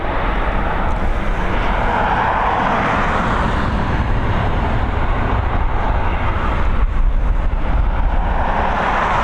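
An SAS Airbus A320neo from Stockholm comes in to land at Dublin Airport in the evening, its engines a loud, continuous roar that stays fairly even, with a slight swell midway.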